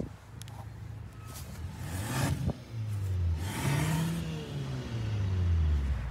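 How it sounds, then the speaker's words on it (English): A 2022 Hyundai Santa Cruz pickup truck's engine revs several times in a row, rising and falling in pitch, heard outdoors at moderate distance with a low rumble between revs. "Jacob's gonna rev it."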